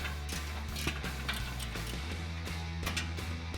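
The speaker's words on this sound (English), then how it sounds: "Grab your 14mm socket and remove it." A ratchet with a 14mm socket works a frame nut loose on a 2016-2019 Toyota Tacoma during a stainless steel bull bar install, giving a rapid, close series of light mechanical clicks with no talk.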